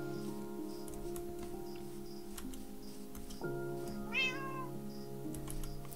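In the video game Minecraft, a cat gives a single short meow midway, set against steady soft tones and faint ticking clicks.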